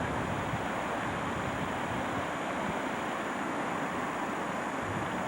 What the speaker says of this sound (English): Not a big creek, but it makes a lot of noise.